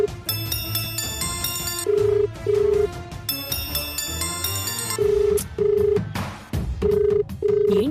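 A telephone rings unanswered in a Telugu TV serial scene, giving repeated short pairs of steady electronic ring tones over background music.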